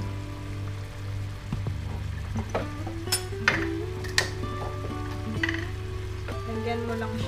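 Mango sauce simmering in a pan gives a soft steady sizzle with scattered small pops and ticks, over a low hum and faint clinks, no voices.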